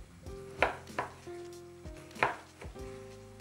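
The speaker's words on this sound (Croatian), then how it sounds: "mi ćemo meso da narežemo na kocke, na prutiće, kako god želite" A knife chopping partly thawed, still firm meat into cubes on a board: several distinct, dull thuds at irregular intervals, close, with a faint sizzle from a pan underneath and no speech.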